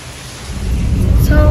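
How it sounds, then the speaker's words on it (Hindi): Heavy rain in Pakistan falls as a loud low rushing roar that swells and thickens over a second and a half, with no clear voices. "हम लोग इस बारिश की तैयारी से आए नहीं"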